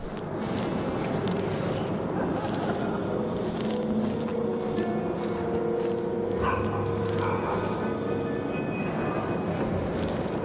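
Dogs bark in the stealth game Dishonored: Death of the Outsider, with repeated sharp barks and yips sounding over a dense, constant rumble of ambient game noise.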